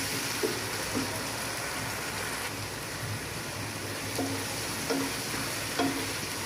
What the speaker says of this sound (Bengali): এটাকে আদা রসুন আর পেঁয়াজটা একটু হালকা ভেজে আমি মশলাটা দিয়ে দেব।